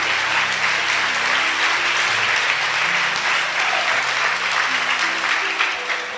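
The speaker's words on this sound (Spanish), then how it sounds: "Dele un aplauso al Rey con todo su corazón." A church congregation applauds during a Spanish-language worship service, with steady, dense clapping filling the room at even volume for several seconds and no break.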